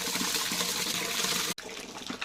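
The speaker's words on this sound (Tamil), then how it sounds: "1க்கு 3 வச்சு தண்ணி ஊற்றிக்கோங்க" Steady rushing of water pouring into a large pot for 5 kg of sweet Pongal, continuous and close, briefly cutting off then resuming more softly.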